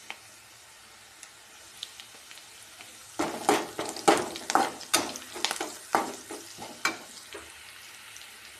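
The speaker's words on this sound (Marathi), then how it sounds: "कढीपत्ता टाकू, आता मोहरी टाकूया" Curry leaves, mustard seeds and turmeric drop into hot oil for a simple cabbage stir-fry, starting a quiet sizzle that turns into a run of sharp crackles and pops at close range.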